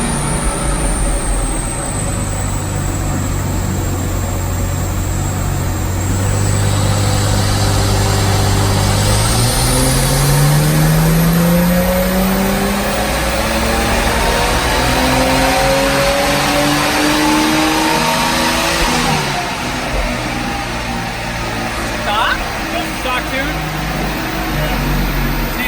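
JB4-tuned BMW M235i on a dyno, engine climbing steadily through a long loud pull with rising pitch, then easing off near the end, with a voice faintly underneath.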